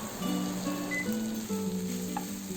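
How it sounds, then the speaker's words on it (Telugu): Tomatoes frying in a pan for a taro and egg curry, giving a steady, close sizzle that carries on evenly with no break and no voices. "బాగా ఫ్రై అయిపోయింది, కుక్ అయిపోయింది టొమాటో"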